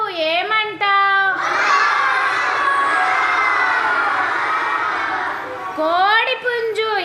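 A loud chorus of children in a classroom sounds activity imitates a cow mooing, one long sustained group call, with an adult voice prompting before and speaking after.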